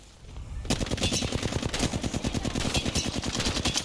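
Rapid automatic gunfire from the Apex Legends video game bursts in after a short lead-in and continues as a dense, loud, steady stream of shots.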